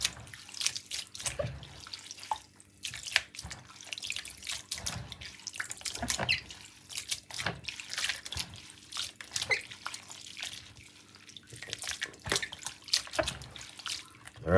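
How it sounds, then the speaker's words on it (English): Bottled water runs and splashes unevenly as sea moss is rinsed, with intermittent drips and sloshing for the whole stretch. "Use bottled water and rinse it now."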